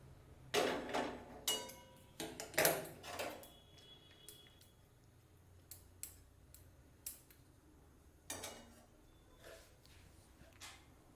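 Tomato chutney is poured out of a pan in a home kitchen, with scattered sharp clinks and scrapes of a utensil against metal coming in quick bursts and separated by quiet pauses.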